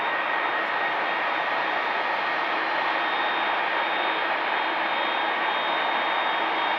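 Jet aircraft with CF6 engines at Manchester Airport, a steady, loud roar of engine noise holding constant throughout, with no talk over it.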